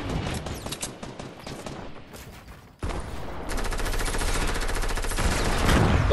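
Video game gunfire roars in continuous rapid automatic bursts, close and loud, with a denser, heavier stream of fire kicking in partway through and carrying on to the end.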